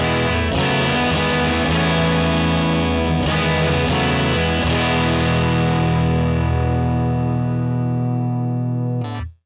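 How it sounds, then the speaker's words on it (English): Electric guitar played through a Vox AC30 amp model and cab in a Quad Cortex, set for a clean tone: loud, full sustained chords with a few re-struck changes, ringing steadily before stopping abruptly at the end. "we are going to be starting with a Vox because we're going to be doing a little bit of a clean tone right now"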